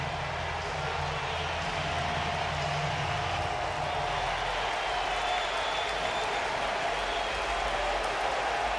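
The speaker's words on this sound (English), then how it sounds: "This crowd knows what is at stake here and rises to its feet." A baseball stadium crowd in Seattle roars steadily with sustained cheering and applause, a dense, continuous wash of voices holding at full volume throughout as fans rise ahead of a possible strikeout.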